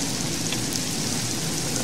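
Rain in the Minecraft modpack Enigmatica 2, a dense, loud, continuous hiss of falling rain with no voices.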